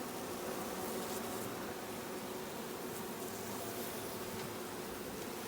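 Bees buzz steadily around an opened Slovenian AZ hive, a dense, continuous hum at close range with no gaps, loud and even throughout.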